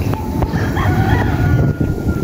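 A rooster crows nearby while chickens are scattered feed on a farm, with a short crow over soft background clucking and scratching.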